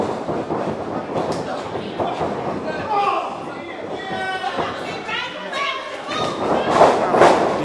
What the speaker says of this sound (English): DDT taking him right back down to the mat.